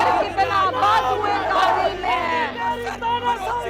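A protest crowd at Jantar Mantar shouts and chants, with many voices rising and falling in loud overlapping bursts, close and continuous, like a dense hubbub of raised cries.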